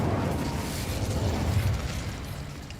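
Fiery spell blasts rumble and crackle from a wizard's wand in Hogwarts Legacy, a dense, continuous roar of explosive bursts at close range with no talking.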